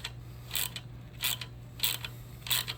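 Wrench turning a bolt to reset a dual mass flywheel on a Dodge Dart 1.4L with dual dry clutch transmission, giving four evenly spaced ratcheting clicks over a low steady hum, close and fairly quiet.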